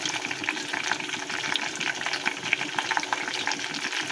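Hibiscus flowers dropped into a pan on a low gas flame, a steady, close crackling sizzle with busy fine spatter throughout and no talking.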